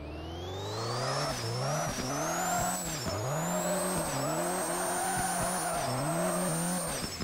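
Car engine roaring with rising and falling harmonics through gear changes, joined by a high steady tire squeal, heard loud and close from the in-car view while drifting in the Hashiriya Drifter video game.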